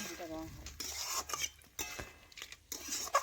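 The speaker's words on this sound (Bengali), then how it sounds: "এখন আমি বেশ কিছুক্ষণ ধরে নাড়াচাড়া করে কাশ্মীরি লঙ্কার গুঁড়ো দেখুন মটনের সাথে মিশিয়ে নিচ্ছি" A spoon stirs mutton with Kashmiri chilli powder in a pot for mutton curry, giving repeated close scraping and rubbing strokes in uneven bursts with brief pauses between them.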